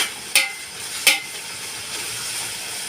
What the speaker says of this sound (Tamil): வெங்காயம் போட்டு கொஞ்சம் வதங்கிட்டு இருக்கு